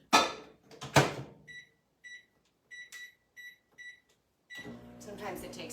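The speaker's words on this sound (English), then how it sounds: "I'm going to toss this in the microwave on low just to melt the butter" A microwave oven, set on low to melt butter in a home kitchen, gives a quick series of short, clear beeps. Brief voices and handling noises come before and after.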